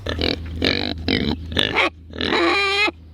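Several loud, close grunts and squeals from two five-month-old pigs on a farm in quick bursts, one stretched into a longer squeal near the end.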